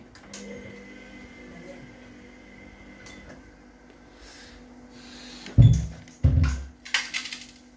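A Tornado TWFL7 front-loading washing machine in test mode, its drum turning slowly one way and then the other: a steady low motor hum, then a few heavy thumps and clunks near the end, with no talking.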